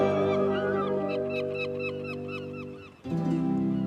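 Cartoon seagulls in a Thomas & Friends episode cry in a quick series of short, repeated squawking calls over a steady music bed, ending in a brief pause.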